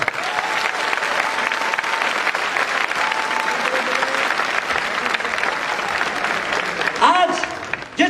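Seminar audience clapping together, dense sustained applause filling the room while a voice keeps talking over it, ending in a brief burst of louder clatter.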